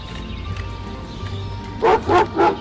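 Three quick, sharp dog barks in a steady rhythm near the end, from the dog in the video game Scary Teacher, over a low electronic hum and faint background music.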